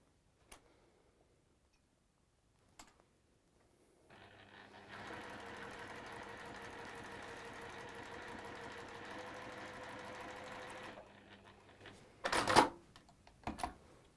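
A sewing machine runs a quarter-inch seam joining fabric rectangles, a steady mechanical whir lasting several seconds after a couple of faint clicks, then ending with brief louder handling knocks.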